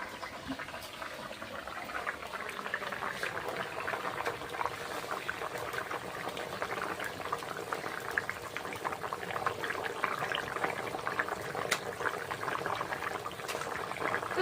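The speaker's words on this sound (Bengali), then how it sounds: "তরকারিটা ফুটছে" A kohlrabi, potato and fish curry boiling in a pot, giving a faint, steady bubbling and soft simmering burble that carries on evenly throughout.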